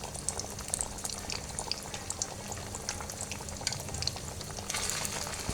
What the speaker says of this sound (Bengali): এভাবে সবগুলো ভেজে নেব।